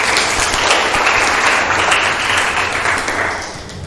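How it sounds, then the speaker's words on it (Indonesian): Classroom students clap together in a sustained burst of applause that holds steady and tapers slightly at the end. "Tepuk tangan dulu buat Isa dan Mutia."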